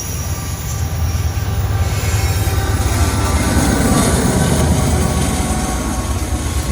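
Freight train with a distributed power unit locomotive rolling past close by, a steady loud rumble of wagons and wheels with a high wheel squeal early on.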